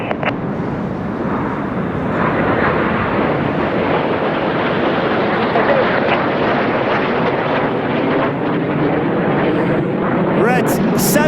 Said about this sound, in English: Each pair will now dive down to approximately 300 feet above the tree line.